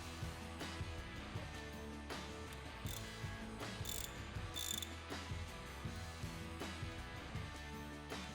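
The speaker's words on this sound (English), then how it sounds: "Tighten and torque to the recommended specifications." Bolts on a Wedgequip C6 quick coupler cylinder cover plate are tightened with a ratchet, sounding as repeated clicking bursts at a steady rhythm, close and fairly quiet, with a few brief sharper metallic ticks between strokes.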